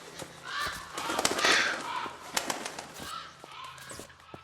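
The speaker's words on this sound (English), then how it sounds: "Those are some funny sounding pigeons." Pigeons coo in the video game Close to the Sun, a soft, odd-sounding cooing and warbling against a faint background with scattered clicks and knocks.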